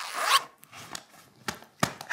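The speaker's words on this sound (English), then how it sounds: "Let's zip our adventure bag together." A zipper on a preschool adventure bag is pulled in one quick rasp, then a few soft handling clicks and rustles follow, close and alone.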